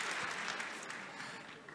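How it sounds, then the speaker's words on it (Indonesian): Brief burst of audience applause at a main-hall session with a presidential candidate, fairly faint and continuous with a few scattered claps. "Kita berikan tepuk tangan pada serangan rapid fire."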